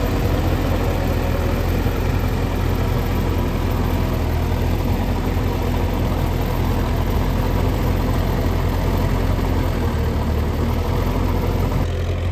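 An Indofarm 3055Di two-wheel-drive tractor drives a rotavator through deep, waterlogged mud, its engine giving a steady, loud, unbroken diesel drone with low rumble from start to finish.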